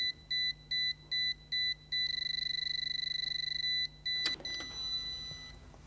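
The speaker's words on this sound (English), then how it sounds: "The unit will start to beep slowly," A RollMatic wireless safety edge receiver for a roller door emits evenly spaced electronic beeps at a slow pace, then switches to a fast continuous stream of rapid beeps before a brief clatter, close and clear in a quiet room.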